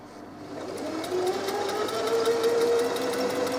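A sewing machine runs steadily, stitching butted-together scraps of wadding batting with a continuous mid-pitched motor hum and fast rhythmic needle ticking, close up and alone.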